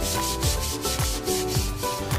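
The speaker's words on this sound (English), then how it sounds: "we will brush at the surface of the metal that we want to welding" A brush scrubbing a metal surface clean before shielded metal arc welding, rhythmic back-and-forth rasping strokes about twice per second, close and continuous with no talking.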